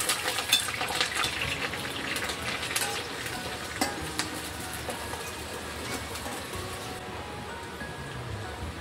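Chopped onion frying in hot oil in a kadhai for prawn masala curry, a dense continuous sizzle that holds steady throughout, with scattered crackles and occasional clinks of a spoon.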